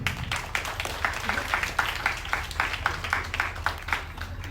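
A crowd at a Kerala Christian Madhuramveppu wedding gathering on the groom's side claps in a steady, even rhythm, with murmuring voices underneath.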